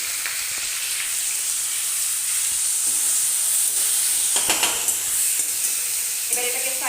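Chopped onion, tomato and slit green chilies fry together in a pan for a Bengali fish curry, giving a steady close sizzle with occasional stirring scrapes and clinks throughout.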